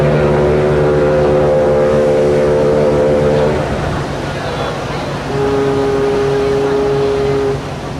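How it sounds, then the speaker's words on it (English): A French ship sounds a loud, deep, sustained foghorn blast at sea, then a second long tone after a short pause, both blaring close by over a steady rumble. "sounding their blaring foghorn to wish bon voyage"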